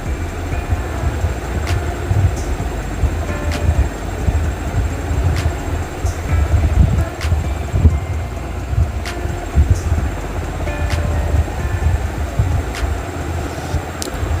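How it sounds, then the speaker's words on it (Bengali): Strong wind buffets a rooftop in steady, rumbling gusts, a loud continuous roar dominated by low noise with faint background clatter. "প্রচুর পরিমাণে আজকে হাওয়া বইছে"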